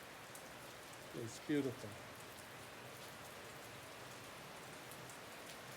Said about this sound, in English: So it's been raining pretty consistent now